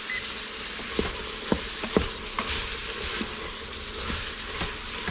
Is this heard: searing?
yes